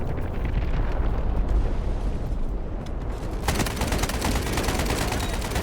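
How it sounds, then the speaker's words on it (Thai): Dense, continuous rumbling blasts and rapid gunfire-like crackle from the video game Delta Force, loud and unbroken, growing harsher and brighter partway through. "ระเบิดลั่นลั่นจัง"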